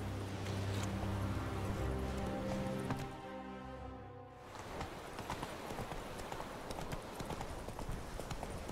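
Roach, the horse in The Witcher 3, trots with a steady, fast clip-clop of hooves over a dense game background. The gait briefly fades and then resumes.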